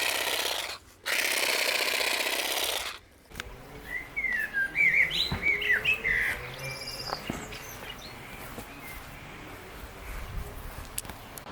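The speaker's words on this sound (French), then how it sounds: "il y a énormément de bruit là en extérieur et puis il y a les oiseaux qui hurlent" Outdoors, a burst of rough wind-like noise gives way to scattered bird chirps and tweets, fairly faint against a background hum.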